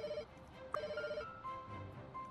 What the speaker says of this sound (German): Ach, dieses Telefon. Furchtbar. Ich nehme es gleich ab.